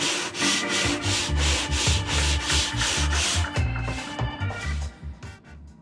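Sandpaper rubbed by hand over epoxy-coated mahogany makes a rhythmic scratching, each long stroke a close, gritty swish in an even back-and-forth pattern that slows and fades near the end.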